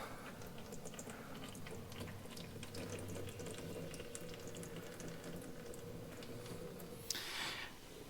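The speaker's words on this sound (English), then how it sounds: "Let some of that hydraulic fluid drain there before I go to taking it completely off." Hydraulic fluid trickles and splashes steadily from a drain plug on a tractor, a faint continuous liquid stream with a brief louder clatter near the end.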